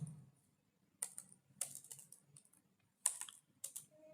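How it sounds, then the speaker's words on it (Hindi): PHP code is typed on a computer keyboard in quiet, irregular bursts of close keystroke clicks with short pauses between them. "तो यहाँ पे मैं PHP का कोड लिख लेता हूँ"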